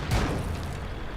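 A single tank gun fires in World of Tanks, a sharp, booming shot that hits at the start and then decays into a low rumble, heard alone with no voices.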